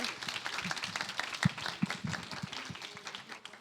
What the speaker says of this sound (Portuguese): depois desses aplausos todos